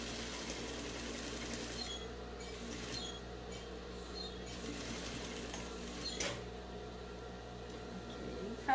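A sewing machine stitches a beach bag with a steady, continuous whirring hum at low volume, running without pause and with no talk.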